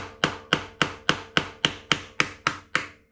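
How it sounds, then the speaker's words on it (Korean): A hammer strikes a thick flathead bolt held against a rust-clogged bolt hole on a Ninebot Max G30 scooter: ten sharp, close taps at a steady, even pace, each ringing briefly before the next. "먼저 두꺼운 일자 볼트를 대고 망치로 쳐서 이 녹가루를 먼저 털어줍니다"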